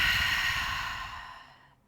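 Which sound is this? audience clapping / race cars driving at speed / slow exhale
slow exhale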